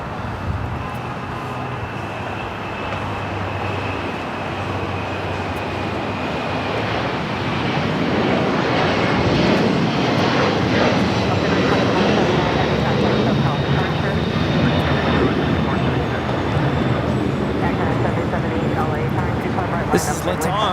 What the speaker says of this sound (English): This is Latam 2479 taking off to Lima, Peru on the 767-300ER